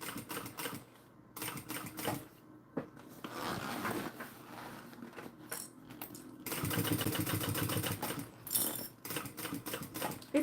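A sewing machine runs fast top stitching in bursts, a close mechanical rattling whir that stops and restarts several times, with small clicks between runs.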